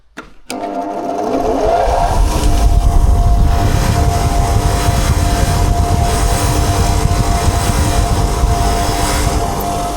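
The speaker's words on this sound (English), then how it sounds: "we're going to clean up the threads a little bit on a wire wheel" A spinning wire wheel cleans up damaged bolt threads with a loud, continuous motor whir and a scratchy buzz. It runs steadily for the whole stretch after a brief start.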